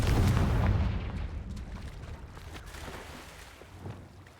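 Fiery Confringo spell blast in Hogwarts Legacy, a loud booming burst up front that rolls off into a fading rumble over several seconds.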